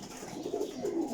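Breeder pigeons coo in a soft, low, throaty warble, with a couple of rolling phrases heard close by over a faint background.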